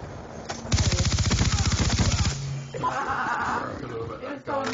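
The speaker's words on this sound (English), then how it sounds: "Somebody's shooting me at our spawn." Rapid automatic gunfire in an online multiplayer shooter game, a sustained loud burst of evenly spaced shots lasting over a second, followed by quieter game sounds and effects.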